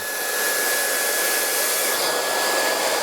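Hair dryer blowing steadily at close range while hair is blow-dried over a heated round brush, a continuous loud broadband whoosh with a faint high whine and no talking.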